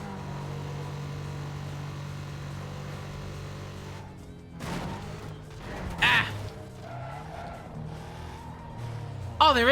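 A car engine idling and revving in the video game Need for Speed Most Wanted, with a steady drone broken by sharp bursts of revving and skid-like noise in the second half.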